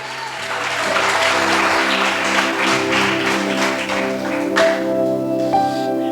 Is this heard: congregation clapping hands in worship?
yes